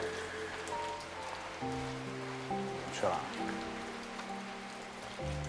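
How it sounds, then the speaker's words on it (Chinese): Heavy rain pours down steadily as a dense hiss beneath music, with a brief spoken voice partway through. "下这么大雨"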